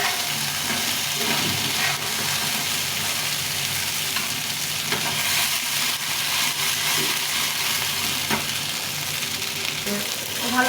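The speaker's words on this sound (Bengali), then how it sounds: "এর উপর দিয়ে একটু চিং অনিয়ন দিয়ে একটু ভেজে দেবো" Flattened rice frying with chopped spring onion in a hot pan, a steady close sizzle with stirring and occasional scraping clatter as the pan is shaken, continuous throughout.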